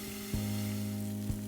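A splash of water sizzles and steams in a covered frying pan holding golden pan-fried pumpkin mochi. The hiss is faint and steady, with two soft knocks.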